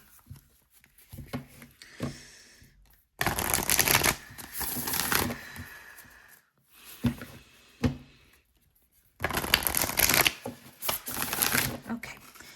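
Tarot cards being shuffled in two loud bursts of riffling, one around a second long and another later, with quieter handling taps in between and no speech.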